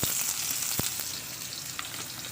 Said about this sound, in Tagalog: Lagyan natin ng sibuyas.